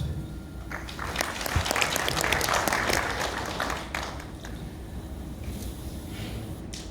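Applause from an audience at a corporate awards night, swelling to a fuller burst of clapping in the first few seconds and then easing into a thinner, tapering patter with a few scattered claps.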